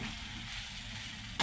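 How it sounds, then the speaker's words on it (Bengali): Soybean mince being fried and stirred in a pan, a quiet, steady sizzle with a brief scrape of the spoon at the very end, no talking. "সয়াবিনটাকে সুন্দর করে কষিয়ে নিতে হবে"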